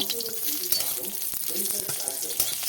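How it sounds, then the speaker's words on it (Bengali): Two fish crackling and sizzling in hot oil in a wok, with close spattering pops and a few scraping stirs in the pan. "কড়াইতে তেল দিয়ে আমি দুটো মাছ দিয়ে ভেঙে ধরে এটা রান্না করব"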